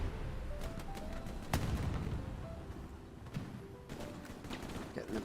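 Light machine gun fire in the online game Fallout 76, scattered distant bursts and booming shots with one sharper close crack, faint under game ambience and brief tonal chimes.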